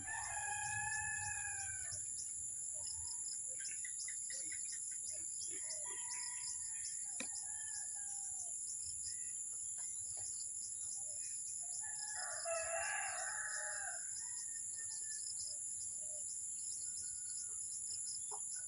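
A rooster crows in the morning on a farm in long drawn-out calls, clearly audible over a constant high insect drone and other faint bird chirps, with no talking.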